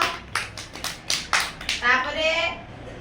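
A group claps hands during a classroom activity: several short, uneven bursts of clapping early on, then voices talk over the end.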